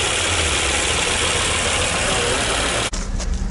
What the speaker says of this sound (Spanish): Así es el sonido del ralentí de este vehículo. Un ralentí muy silencioso.